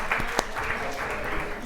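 Continuous applause from a workshop audience welcoming volunteers, a steady clatter of many hands with a faint voice in the background.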